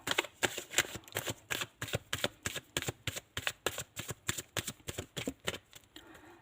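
Tarot cards being shuffled up close, a rapid steady run of crisp riffling bursts in an even rhythm, with no talking.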